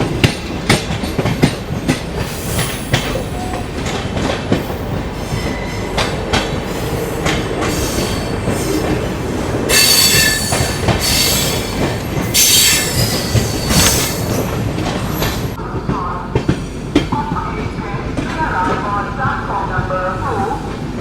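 The Begampura Express, running from Jammu Tawi toward Varanasi behind a freight locomotive, passes close alongside on departure from Nihalgarh. There is a loud continuous rumble with rhythmic wheel clatter, and sharp, high wheel squeals rise in bursts midway.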